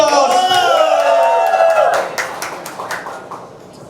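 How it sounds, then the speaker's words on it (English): At a denim collection launch, a crowd bursts into loud clapping and cheering with whoops, the shouting voices strong at first and then fading into scattered, trailing claps. "Big round of applause!"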